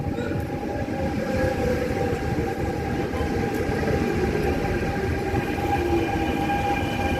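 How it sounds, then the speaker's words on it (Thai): A long train in France rumbles steadily past on a very windy day, with continuous heavy rolling noise and faint metallic squeals, close and loud throughout. "รถไฟกำลังมาพี่น้องรถไฟกำลังมา"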